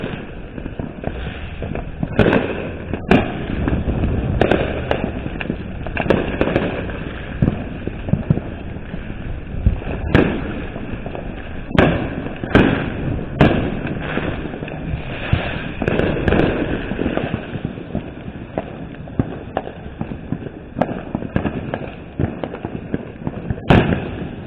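Fourth of July fireworks exploding in repeated sharp bangs and pops, some near and loud, others distant and rumbling, over a constant crackling background roar through the whole stretch.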